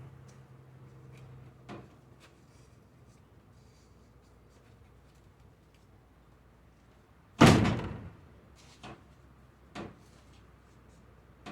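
A partly open door in a warm maple sap boiling shed bangs once loudly as the wind catches it, followed by a few fainter knocks and rattles against a quiet background.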